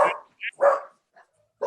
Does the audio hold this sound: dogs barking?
yes